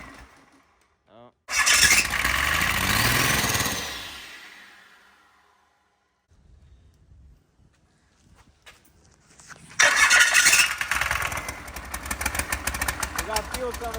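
A garage-find Cummins 12-valve 6BT diesel cranks and catches in two loud, close bursts of harsh engine roar separated by a quiet lull, with people speaking in between.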